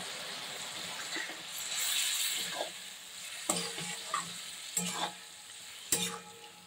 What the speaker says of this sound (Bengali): এইবারে আমি ভিনিগার দিয়ে দিচ্ছি